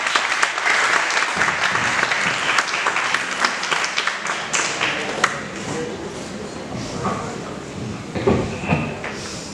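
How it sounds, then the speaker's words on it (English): A crowd applauds at a morning event as a speaker is welcomed, dense clapping that is loud at first and gradually thins and softens, with a few sharper claps and brief voices near the end. "Big round of applause."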